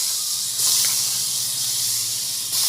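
Ingredients sauté in oil in a pan, giving a steady, loud, close hiss with slight swells in intensity, and no talk.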